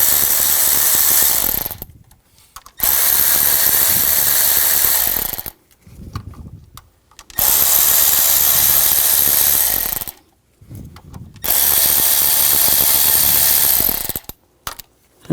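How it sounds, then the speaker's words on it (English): A ratchet with a 10mm socket takes out bolts on a 2000-2006 BMW X5 with a 3.0L inline-six during a water pump replacement. Rapid clicking comes in four long, loud bursts with short pauses between, and no talking. "Now using a 10mm socket,"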